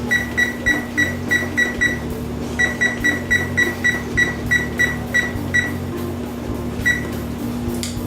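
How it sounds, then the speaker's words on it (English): Rapid electronic beeps in short bursts over a steady low hum, like a kitchen timer's buttons being pressed repeatedly, with a few pauses between runs. "And I start a timer for 17 minutes."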